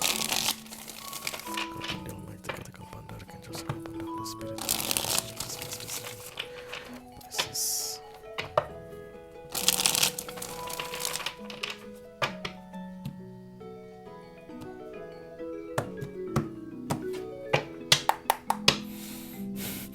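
A tarot card deck is handled and shuffled up close, with irregular bursts of riffling, flicking and soft slaps scattered across the stretch over faint tonal background music.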